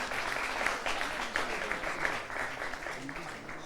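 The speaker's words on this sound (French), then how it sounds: "Public, on va les applaudir très fort pour les encourager." Studio audience applause on a French television quiz show, with steady brisk clapping from a crowd, fairly loud and even throughout, with a voice faintly audible underneath.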